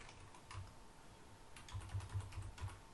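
Light tapping on a computer keyboard, a short run of faint, close keystrokes in uneven clusters with no voice.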